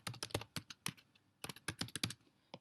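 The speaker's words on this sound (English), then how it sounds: "So let me just go ahead and type this" Password being typed on a computer keyboard, a quick run of close, crisp keystrokes in two bursts with a short pause between, no voices.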